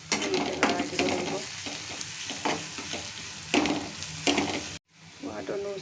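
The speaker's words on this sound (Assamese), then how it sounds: "ইয়াতে আৰু দিম এয়া জিৰা গুড়ি আৰু ধনিয়া গুড়ি, হালধি এনেকৈ লৰাই দিব লাগিব" Cumin, coriander and turmeric powder sizzle in oil in a frying pan, with repeated close scraping strokes of a spoon stirring through a constant frying hiss, a brief cut near the end.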